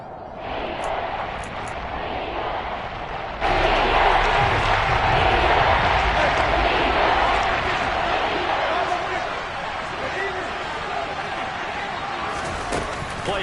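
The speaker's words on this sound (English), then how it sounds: "Shouts from this crowd as they watch the replay." A football stadium crowd at a Panthers game roars in a broad, sustained wash, with commentary talking over it; the noise swells louder about a third of the way through and stays dense to the end.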